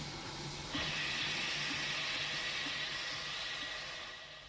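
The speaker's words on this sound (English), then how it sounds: "Thomas tried to whoosh some steam at him." A sharp burst of steam from a train engine hisses out and holds as a steady whoosh before slowly fading, over a quiet low rumble.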